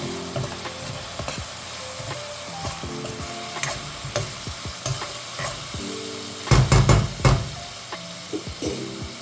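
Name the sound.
ginger, garlic and coriander paste frying in oil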